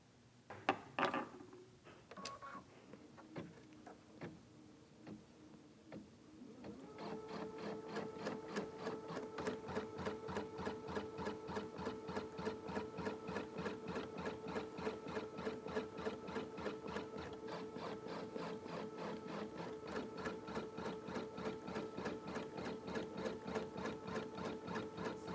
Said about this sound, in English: when I begin to stitch, the first thing that it's going to do is give me that little basting stitch